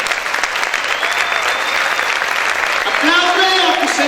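A church congregation claps loudly and steadily, a dense wash of hands that swells toward the end, with voices and a preacher's speech mixed in over the applause.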